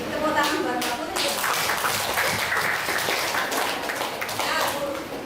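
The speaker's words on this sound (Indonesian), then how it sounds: "tepuk tangan buat Mbak Putri." Classroom audience clapping for a presenter, a lively burst of many hands that holds steady across the clip, with some voices mixed in.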